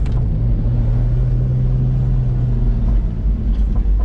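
A 1997 Porsche Boxster 2.5 on stock exhaust cruises at a steady pace, its engine a loud, even low drone under road rumble that holds constant throughout with no talking.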